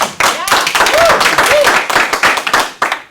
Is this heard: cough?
no